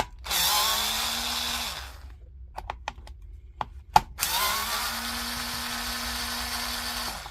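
A power screwdriver with a T10 Torx bit backs screws out of a Makita 18V LXT battery casing. Two sustained whirring bursts ring out close and loud, with a few sharp clicks and taps in the pause between them.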